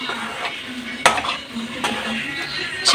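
Jaggery, ghee and poha laddu mixture being stirred in a pan over a low flame, a spoon scraping and clinking against the metal in repeated strokes with a faint sizzle underneath, no talking.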